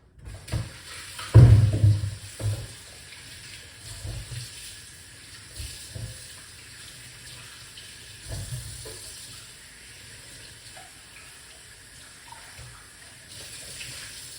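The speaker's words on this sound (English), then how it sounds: "So we're going to wash off our ingredients first before I go any further." Tap water runs into a kitchen sink as ingredients are rinsed, a loud splashing burst early on, then softer intermittent trickling and handling noises, no talking.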